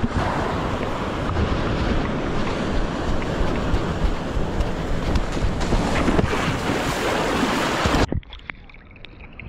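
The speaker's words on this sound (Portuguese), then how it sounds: "Estamos direto aqui do meio da praia de Grumari." Surf and wind at Grumari beach, a steady loud roar of waves and gusting air buffeting the microphone, cutting out abruptly near the end.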